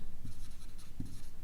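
A pen scratches across paper while a cash book entry is being written, producing close, continuous rough scribbling with a couple of slightly heavier strokes, and no talking.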